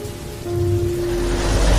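Steady rain falling in a dark horror story scene, a dense even hiss that swells slightly louder partway through, with a low rumble underneath and a faint steady hum.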